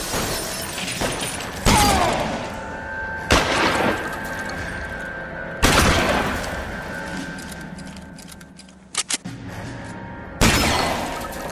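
Gunshots ring out during a shootout in the LA Noire video game: several loud, sharp reports spaced a few seconds apart, each trailing off with a ringing decay, plus a quick double crack near the end.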